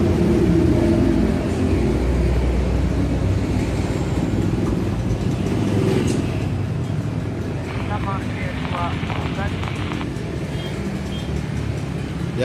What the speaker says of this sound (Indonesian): suaranya memang ini berisik, banyak mobil, banyak kendaraan